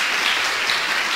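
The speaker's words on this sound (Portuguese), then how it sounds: "Dê uma salva de palmas a Jesus." A church congregation claps and applauds in a steady, dense wash of hand claps that fills the space evenly from start to end, with no voices standing out.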